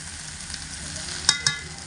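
Drumstick and potato curry with ghee sizzles gently in a pan, a low steady fry broken by two quick metallic scrapes of a spoon stirring near the end.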